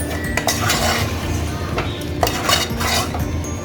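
A utensil scrapes and clinks against a pan as chicken is stirred with finely chopped garlic for a Sunday non-veg dish, steady close clatter over a continuous low sizzle and kitchen hum, no one speaking.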